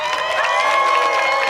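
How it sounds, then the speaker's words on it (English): A large outdoor crowd at the White House Easter Egg Roll cheers and claps steadily for First Lady Michelle Obama, a dense continuous roar with high voices mixed in. "You don't have to clap for yourself."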